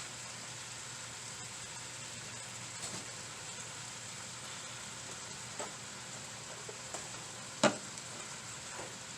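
Soy sauce hits a hot pan of pancit, Filipino stir-fried noodles, and a steady low sizzle runs throughout. Soft scrapes and clinks from stirring come through now and then.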